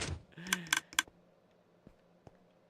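Minecraft redstone item sorting machinery clicks in a short burst of three or four quick sharp clicks, then a couple of fainter isolated ticks follow over quiet background.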